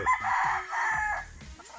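A Paul's Park Gray gamefowl rooster crows once, a single clear cock-a-doodle-doo at moderate distance on a game farm, with no one speaking.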